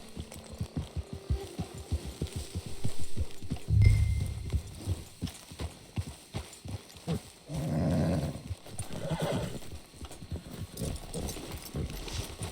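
Horse hooves clip-clopping in Red Dead Redemption 2, a rhythmic trotting gait with snorts and low rumbles mixed in, moderately close and mostly alone.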